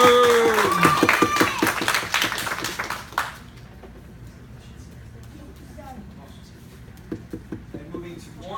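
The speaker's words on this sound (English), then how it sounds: "let's give a round of applause for Sammy!" Applause at a karate class belt promotion starts strong with whoops and cheers, then fades after about three seconds into a few scattered claps and quiet chatter.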